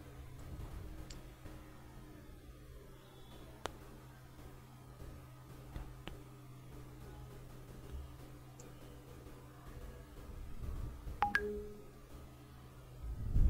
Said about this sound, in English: Let me dial this number.